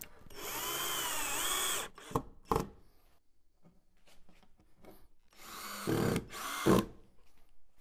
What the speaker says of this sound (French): Percez-la à la paroi arrière et le fond.